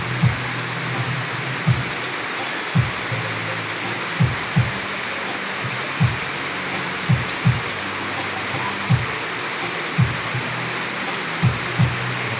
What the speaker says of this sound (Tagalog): Malakas ang ulan na dulot dito sa amin.